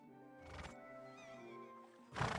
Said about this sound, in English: I'll get the horse.